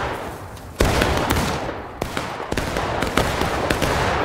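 Rapid rifle volleys crack out at a Civil War battle reenactment, a dense string of close, loud shots with scattered louder reports over a steady background of distant firing.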